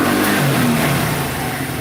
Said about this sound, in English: Right there, I'm revving it, and I'm putting the rear brake on to slow it down.